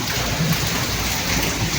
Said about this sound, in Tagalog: Yan Kyle ko, lakas ng ano pa rito yung ulan. Yan, pabugso-bugso yung ulan.